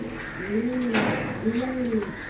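Racing pigeons cooing in a loft, two drawn-out throaty coos close by, with faint chirps and background bird noise.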